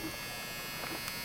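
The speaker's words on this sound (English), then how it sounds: "besides a dryer going off in the background" A clothes dryer runs in the background, giving a steady buzzing hum with no break.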